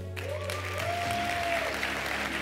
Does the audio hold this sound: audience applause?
yes